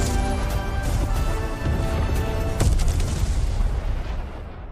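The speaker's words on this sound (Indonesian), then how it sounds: "Ia juga melihat pipa gas sudah mengalami kebocoran dan akan segera meledak" A gas pipe explosion in the 2022 film The Ghost: a loud, dense crashing blast with sharp debris impacts and a big hit near the midpoint, sustained roaring rumble throughout and a fading tail.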